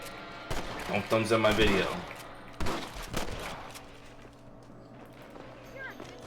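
Gunshots ring out in the Western video game Red Dead Redemption as a burst of cracks followed by a few louder single shots, mixed with galloping horse hooves, while someone talks over the action.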